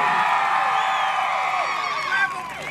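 A crowd at a jaripeo cheers with whistles and whoops, loud and continuous, a bright mass of shouting and clapping that swells slightly near the end.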